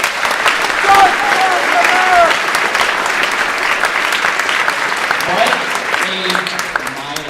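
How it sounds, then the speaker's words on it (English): Sustained audience applause fills a Veterans Day celebration at a high school, steady and dense throughout with crowd voices and cheers mixed in under the clapping. "Give a round of applause for that."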